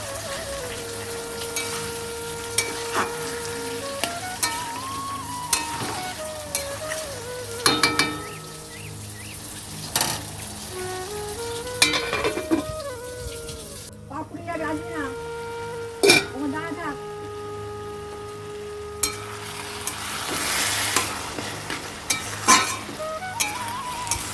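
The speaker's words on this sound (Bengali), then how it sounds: "চলো টমেটো দিয়ে আর একটু নাড়ি চাড়িয়ে ঢাকা দিয়ে দেবো" Bottle gourd curry with tomato is stirred in a frying pan, giving a steady sizzle with repeated scraping and stirring strokes, while a voice or tonal background sound comes and goes.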